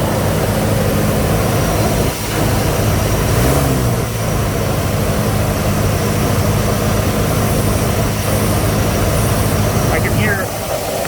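A 1972 Chevrolet C20 pickup with a factory 402 big-block V8 runs steadily under the hood, a loud, continuous close-up engine rumble with a brief dip partway through.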